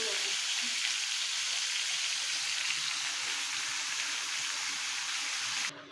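Dal sizzles and fries in a pan on a home stove, a dense, steady hiss heard close up that cuts off abruptly at the end.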